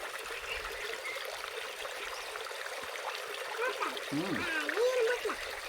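Water flowing in a stream, a steady soft rushing wash heard close by, with a voice speaking briefly over it toward the end.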